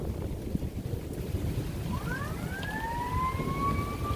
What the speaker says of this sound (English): I hope that's not a tornado siren.